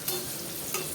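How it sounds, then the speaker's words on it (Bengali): Cut potatoes frying in a pan, a dense close sizzle with two quick spoon scrapes as they are stirred. "কেটে রাখা আলুটা দিয়ে দেবো। আলুটা একটু হালকা নেড়ে ছেড়ে"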